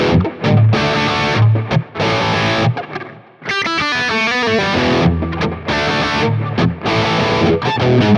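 A Fender Player Telecaster through its humbucker pickup with high-gain distortion plays loud, dense riffs with chords and single notes, brief pauses and sustained distorted tones, with no talk.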